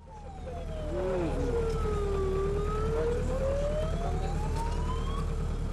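A fire engine's wailing siren sweeps down and back up in a long continuous tone on a city street, loud and near, over a constant low traffic rumble.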